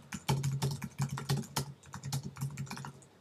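Typing on a computer keyboard while editing text in iWeb, a run of quick, irregular key clicks close to the mic, with no voices.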